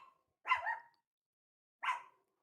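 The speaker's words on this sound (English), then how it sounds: "And it sounds like the dog's happy about that." A small dog gives two short, sharp barks about a second apart, close by and clear, with silence between them, at a cornhole event.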